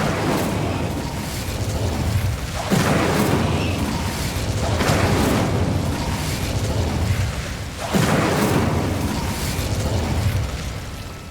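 Repeated Bombarda and Incendio spell blasts in the Hogwarts Legacy video game: loud booming bursts roughly every few seconds over a continuous roar of fire and rumble, with no speech.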